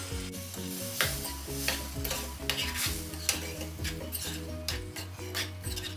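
Steady sizzling in a hot pan with water hissing as it is added for bisi bele bath, while a utensil stirs and scrapes against the metal in repeated strokes.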